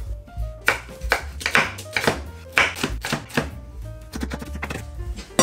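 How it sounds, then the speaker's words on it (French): A knife cuts a sweet potato into fries on a board, a run of sharp chopping strokes, dense in the middle then thinning out, over soft background music without talk. "Je vais alors la couper en frites."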